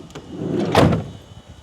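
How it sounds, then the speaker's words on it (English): A door is opened in a short burst of mechanism noise, a brief latch click followed by a soft thud, alone with no talk. "So as normal, you would open the door."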